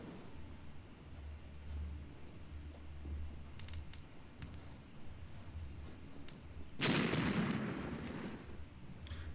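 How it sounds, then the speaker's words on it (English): Mortar fire in the war game Graviteam Tactics: Mius Front, a distant low rumble of explosions under steady battlefield ambience, then a louder, close burst near the end. "We do have some mortar fire."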